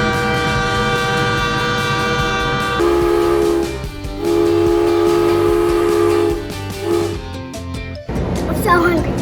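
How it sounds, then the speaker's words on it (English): A large train sounds its horn in several sustained blasts, with a steady rumbling underneath and a break before the final blast fades out. A person talks over much of it. "Look how big this train is."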